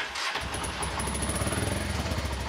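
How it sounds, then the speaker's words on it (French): A 650 cc motorcycle engine fires up after a brief silence and settles into a steady, throbbing idle, close and moderately loud with no talking over it. "Ça, c'est ma moto."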